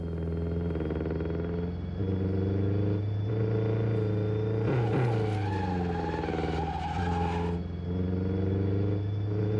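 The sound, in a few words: car engine revving in video game Neverness to Everness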